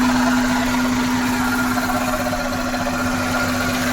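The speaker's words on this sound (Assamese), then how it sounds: "এইটো চাই লওক গাড়ীখনৰ ইঞ্জিনটো" A small used car's engine idles steadily under an open bonnet, a constant mechanical drone with a strong low hum and faint vibration, close and continuous with no talk.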